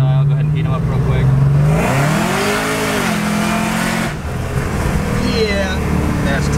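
A Cadillac CTS-V does a tire-heating burnout on M&H Race Master tires at 16 PSI, engine roaring and rising in pitch with squealing rubber, loud and close, then dropping back as the revs fall.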